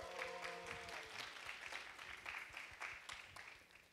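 A church congregation and youth group clap at a Sunday service, a faint, diffuse round of applause that holds steady, with a brief tonal sound at the start.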